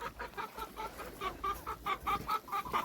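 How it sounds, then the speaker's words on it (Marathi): Farmyard chickens cluck in a rapid, rhythmic series of short calls, moderately close and fairly quiet, repeating steadily throughout. "कोंबड्या कशा पळत आले काय"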